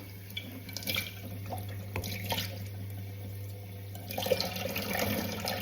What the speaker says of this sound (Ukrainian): Зараз заодно хочу помити сковорідку.